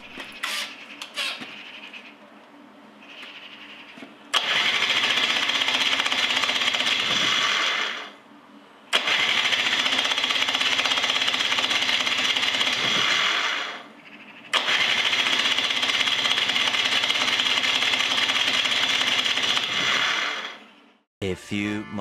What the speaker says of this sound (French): on peut refaire un essai de démarrage.